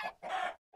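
Minecraft chickens clucking in short bursts, two close clucks followed by a brief pause and a third starting, loud and near with no talking.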